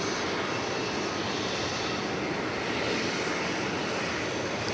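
An airplane approaching at DFW Airport, its engine roar loud and steady throughout as a broad, continuous rush with no pause or talk.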